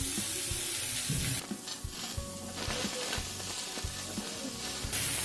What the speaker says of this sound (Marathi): तर यामध्येच आपण 4 काळे मिरी मिरच्या घेतलेल्या आहेत, थोडीशी दालचिनी घेतली आहे आणि तमालपत्र, हे तिन्ही आपण यामध्ये परतून घेऊया